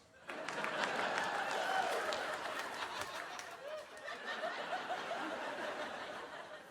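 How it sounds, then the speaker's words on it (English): A stand-up comedy audience breaks into applause mixed with chuckles and scattered laughter, a moderately loud crowd swell that fades and lingers with murmuring chatter. "You don't hear enough applause for that."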